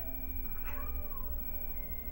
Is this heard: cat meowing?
yes